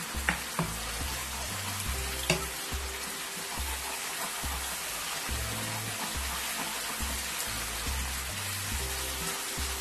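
Green chilies and onion masala sizzle and fry steadily in a pan, a dense continuous crackle with a few sharper pops near the start and no talking.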